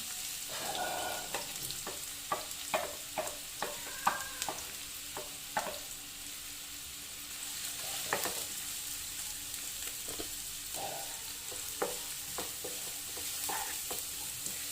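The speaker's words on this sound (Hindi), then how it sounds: "देखिए फ्रेंड, ऑयल गर्म हो चुका है, ऑनियन डाल देंगे इसमें।" Onions sautéing in about two tablespoons of hot oil over medium flame for a minced mutton keema samosa filling, a continuous close sizzle broken by repeated spatula knocks and scrapes against the pan, no voices.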